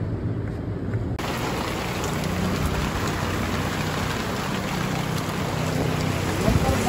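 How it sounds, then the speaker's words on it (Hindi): Heavy rain beats down steadily, a dense, loud hiss that starts abruptly after a quieter opening and then stays constant, with no voices heard. "बारिश बहुत जोर हुआ"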